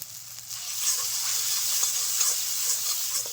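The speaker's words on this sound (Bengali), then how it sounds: "দিয়ে দিচ্ছি অল্প জল" Hot pan of vegetarian potol posto (pointed gourd in poppy seed paste with turmeric, salt and green chilli paste) hisses and sizzles steadily as a little water is added, a close, continuous frying crackle throughout.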